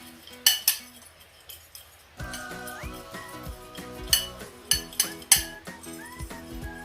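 Seasoning for ground beef being mixed with metal utensils in a small dish, a string of sharp clinks and tapping strokes with ringing tones, close and free of speech.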